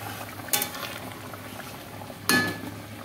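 Curry gravy bubbles in a pan as the lid comes off, with a steady low simmer and two brief clattering bursts, probably the lid or a spoon against the metal.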